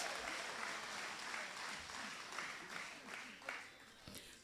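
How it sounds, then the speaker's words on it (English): Crowd applause at a special party meeting, a broad roar of clapping that stays full for several seconds and then gradually thins, with a faint voice rising near the end. "Give yourselves a big round of applause."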